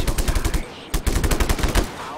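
Rapid automatic gunfire from a video game firefight against militia, a dense burst of shots with a brief pause midway before another sustained volley.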